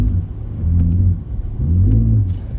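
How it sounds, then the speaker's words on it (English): A Toyota Tundra truck engine revs up twice from throttle blips, each a close, loud rising roar that falls away, with a short idle rumble between them. "So we're gonna blip the throttle."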